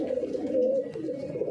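Pigeons coo in a low, steady murmur, a short close stretch from a prized pair kept by a pigeon fancier.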